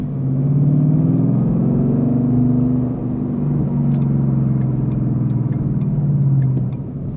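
A 2012 Ford Mustang Boss 302 V8 drones loudly from inside the car while driving, its low engine tone rising and falling through steady acceleration and a gear change, with no talking.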